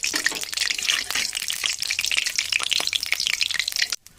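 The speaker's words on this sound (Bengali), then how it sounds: "তেলটা ভালো মতন গরম হয়ে গিয়েছে, তাই দিয়ে দেবো এর মধ্যে আমি জিরে ফোড়ন।" Cumin seeds crackle and sizzle in hot oil in a wok, a steady bright frying hiss with small pops that runs for about four seconds and then cuts off abruptly.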